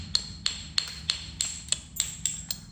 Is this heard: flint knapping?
yes